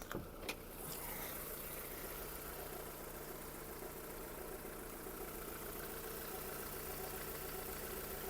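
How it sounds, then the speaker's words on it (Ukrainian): A Volkswagen car engine idles steadily with a low, even hum and faint mechanical ticking, running without pause after a brief knock at the start. "Робота двигуна. Двигун просто супер."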